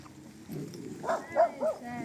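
A dog barks a few short, moderately close times during an evening walk near a campervan, the barks mixed with people speaking.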